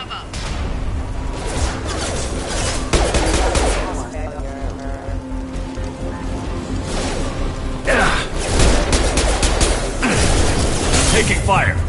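Bursts of gunfire and mechanical clatter from attacking security mechs in a sci-fi shooter, loud and close, with repeated volleys and booms, and a voice speaking intermittently over the fighting.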